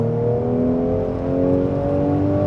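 A Mercedes C450 twin-turbo car on a road in Mexico, its engine droning steadily and loudly under load as it accelerates, with sustained harmonic engine tones and no speech.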